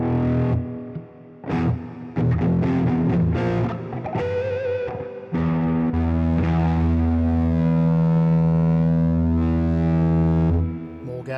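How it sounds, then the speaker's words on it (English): An electric guitar played through the rectifier amp model of a Zoom G1 Four multi-effects pedal rings out with heavy distortion, loud sustained chords and short picked notes filling the passage with no talk. "So let's have a rectifier in there."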